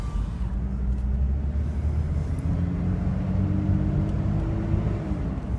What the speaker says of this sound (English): While the engine's warming up, I'll go through some of the stuff that we can do at a low speed here.